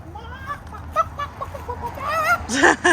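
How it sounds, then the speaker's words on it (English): Chickens cluck and squawk nearby in a steady, chattering stream, rising into a louder burst of fowl calls at the end. "You gotta have chickens. Gotta have chickens."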